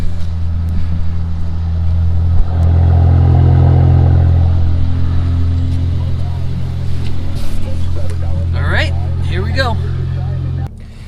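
A 2016 Mercedes-Benz C450 AMG engine started in Sport Plus mode, a steady loud low rumble that swells briefly after the start, with people talking over it near the end.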